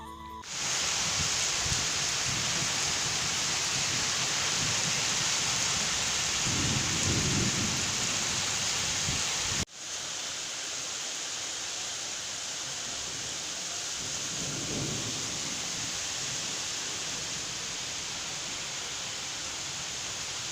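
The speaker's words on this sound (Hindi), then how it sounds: "अभी दोपहर के टाइम है और बहुत ही ज़्यादा बारिश होती है।" Heavy midday rain pours down steadily as a dense, loud, continuous hiss, with low rumbling swells underneath and a brief cut partway through, no voices.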